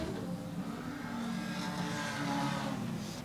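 Production sedan race cars roar around Tyrepower Manjimup Speedway in a continuous loud engine drone, several cars overlapping with no voices over them.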